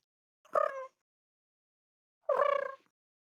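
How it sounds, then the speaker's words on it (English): A cat gives two short, tonal meows about two seconds apart, quiet and clear against near silence, with no talking. "Freaking cat."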